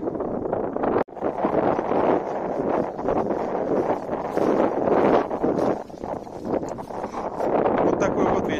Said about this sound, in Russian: Вот такой вот ветер.